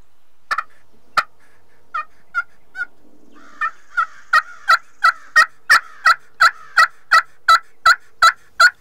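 Wild turkey gobbler calling at first light, a series of sharp, rattling gobbles that begin sparse and distant, then repeat in a steady, evenly spaced rhythm, growing louder and denser with no talking.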